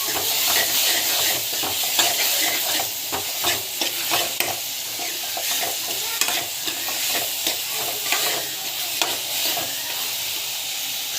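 Ingredients for a village-style dish sauté in a pan with continuous sizzling and frying hiss. A spoon scrapes and stirs in a steady rhythm throughout, loud and close, with no voice over it.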